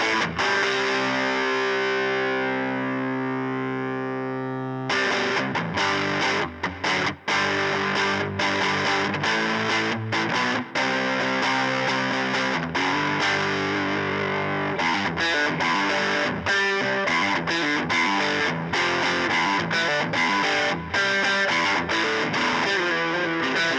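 An electric guitar with split-coil pickups runs through a JHS Violet distortion pedal, opening on a ringing sustained chord before loud, close, driven riffs with choppy palm-muted bursts and sustained notes, played alone without talk.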